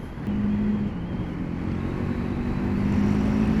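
A BMW G 310 GS motorcycle engine holds a steady, buzzing drone at about 50–60 mph on a dual carriageway, fairly loud and close with a constant whine, no talk.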